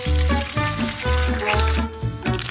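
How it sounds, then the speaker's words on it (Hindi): Batter-coated sausages fry in boiling oil with a steady, close sizzle that runs throughout, mixed with tonal background music. "अब सारे सॉसेस को अच्छे से बैटर में लपेटना है, फिर उन्हें खौलते तेल में डाल देना है।"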